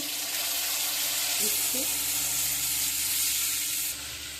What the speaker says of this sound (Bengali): এবার আমি পেস্ট করা মশলাটা দিয়ে দিচ্ছি